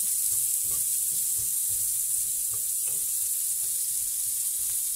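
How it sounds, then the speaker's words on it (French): Vegetables sizzling in a small frying pan inside a camper van, a steady close frying hiss with soft stirring and scraping taps, no talking. "je vais d'abord préchauffer les légumes, puis je vais faire les steaks"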